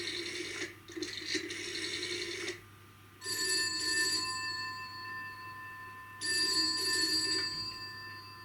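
An old-style telephone bell at a country hall rings in two loud bursts with a pause between them, over a low steady background hum, with no talk.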